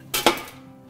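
Metal baking tray slid into an oven in a kitchen, two quick close clattering knocks followed by a fading rattle.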